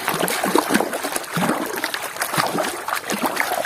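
Water splashing and trickling as a muddy toy motocross bike is washed, with busy irregular sloshes and drips running continuously at close range, without speech.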